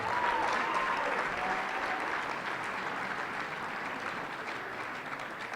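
Steady, fairly distant applause from an audience at an annual awards ceremony, a dense even wash of many hands clapping that slowly eases in loudness, with no voices on top.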